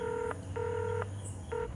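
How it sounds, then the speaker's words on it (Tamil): Telephone keypad dialing tones sound as three clear beeps, each held briefly with short gaps between them, against a faint background hiss. "ஓ ஃபோன் பண்ணிட்டுருக்கியா?"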